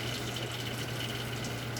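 Decolorizer liquid is poured over a glass slide held at an angle during a Gram stain, a steady close hiss of running liquid with a low hum underneath.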